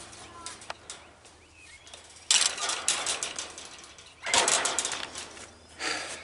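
A ratchet tensioner on a spinning jenny is cranked to tighten steel electric fence wire, giving rapid clicking bursts that swell loudly in two main spells with quieter clatter between.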